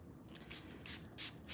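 Spray bottle giving several quick hissing squirts in a row, close and sharp, each burst short and separated by brief pauses, no talking.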